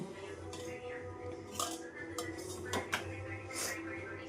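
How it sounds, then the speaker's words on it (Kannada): Knife cutting boiled egg whites on a board for an egg sandwich, a few soft, scattered clinks and taps of the blade against the surface, faint and close, with quiet gaps between strokes. "ಈಗ ನಾನು ಈ ಎಗ್ ವೈಟ್ಸ್ನ ಕಟ್ ಮಾಡ್ಕೊತೀನಿ"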